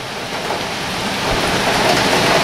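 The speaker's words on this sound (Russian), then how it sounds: "Музыка дождя," Heavy rain lashes down during a hurricane in Odesa, a dense, loud, continuous hiss of pouring water and wind with no pauses, close and enveloping throughout.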